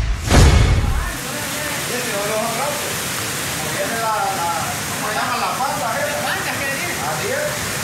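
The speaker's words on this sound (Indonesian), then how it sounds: "Badai Iota telah menimbulkan banjir yang sangat deras di Amerika Tengah" Rushing floodwater from Hurricane Iota in Honduras gives a steady, dense roar of water after a brief loud burst at the start. It continues evenly for several seconds and sounds close.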